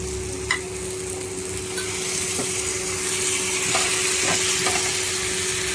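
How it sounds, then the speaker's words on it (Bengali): Chicken pieces sizzling and frying in a pan with ground coriander and cumin, stirred with steady scraping strokes under a continuous broad hiss, close and fairly loud with no talking. "এই যে চিকেনগুলো দিয়ে দিচ্ছি, এবার কষতে থাকবো চিকেনগুলো সহ, মশলা সহ।"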